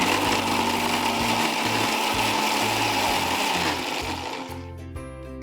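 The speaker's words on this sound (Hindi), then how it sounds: "और इसे हम एक बार फिर से मिक्सी में चला देते हैं।" A kitchen mixer grinder runs loud and steady, grinding chutney with salt, black pepper powder, sugar and lemon juice, then winds down and stops near the end.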